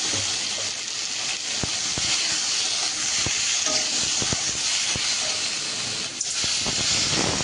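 Water added to a hot pan of taro and fish, giving a steady loud sizzling hiss that continues throughout with faint crackles, close up and with no voices.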